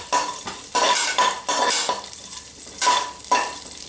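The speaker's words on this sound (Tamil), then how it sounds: "கூடவே 5 பச்சை மிளகாய் சேர்த்து அதையும் நல்லா தாளிச்சுக்கோங்க." Cloves, a bay leaf and green chillies crackle in hot oil while a spoon stirs and scrapes the pan, with bursts of sizzling between metallic clinks.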